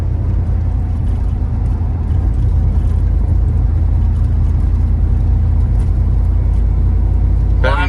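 ZL1500 car with a 10-speed transmission on its first road drive, a loud steady low engine drone and road rumble heard from inside the cabin throughout, with no clear talk.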